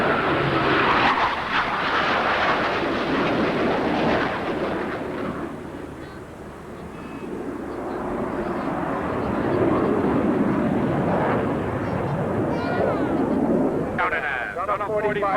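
Airplanes flying by in formation at the 1993 Lafayette Air Show, a loud roaring engine drone that swells, dips briefly and builds again as the aircraft pass, with people talking over it.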